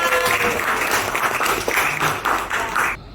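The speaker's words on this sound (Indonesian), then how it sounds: "kita kasih tepuk tangan buat kelompok A" Classroom students clap for a group of classmates, a dense burst of hand-clapping applause lasting about three seconds before cutting off abruptly.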